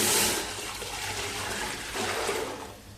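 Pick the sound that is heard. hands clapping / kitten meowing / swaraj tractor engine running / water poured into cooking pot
water poured into cooking pot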